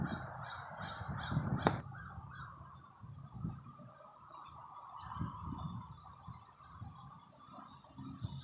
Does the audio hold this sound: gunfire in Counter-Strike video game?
no